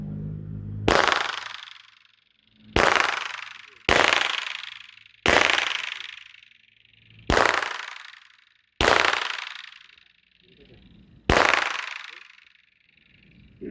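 Seven sharp handgun shots during 10-meter target shooting practice with a magazine change, each loud crack ringing out with a decaying echo, spaced irregularly about one to two seconds apart.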